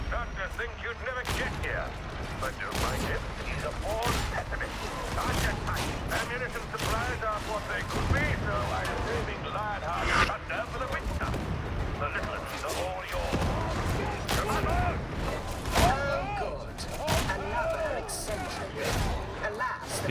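Rapid gunfire from Warhammer 40,000: Darktide, dense repeated shots and booms running almost continuously at close range, with a voice talking over the combat throughout.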